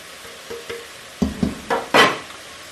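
Spatula stirring meat with black pepper, chili powder and other spices in a hot pan for Persian ghormeh sabzi stew, a few scraping strokes over a soft sizzle, the last one loudest, with no voice.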